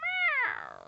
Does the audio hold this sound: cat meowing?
yes